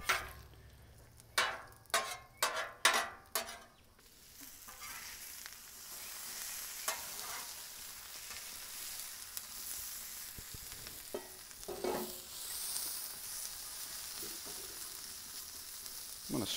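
Potatoes frying on a hot Blackstone griddle: a quick run of loud scraping spatula strokes, then a steady sizzle with a few more occasional scrapes.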